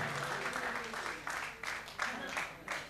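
An audience at a university felicitation ceremony applauds an honoree with steady, sustained clapping from a crowd, fairly loud and continuous throughout.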